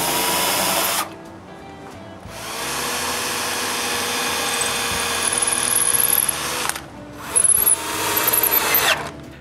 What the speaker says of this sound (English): I drill pallet holes.